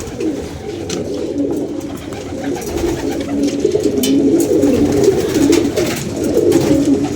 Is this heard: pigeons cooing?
yes